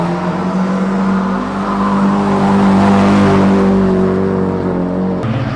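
A Nissan S15 Silvia drifts with a loud, sustained engine note and steady harmonic drone, tires squealing through the slide before the sound cuts off abruptly near the end.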